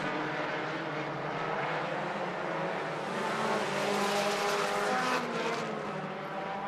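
Street stock race cars roaring around Clarksville Speedway, a continuous loud engine drone that swells as the pack passes close, with no talk over it.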